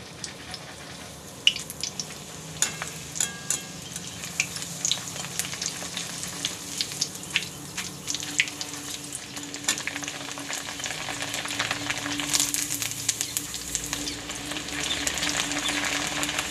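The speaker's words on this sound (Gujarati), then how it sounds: "થોડી થોડી નાખીને આપણે આ રીતે તળવાની છે." Dal sizzles and crackles as it fries in hot oil for green chevdo, a steady close frying hiss with small spatters and light stirring clinks, no voices.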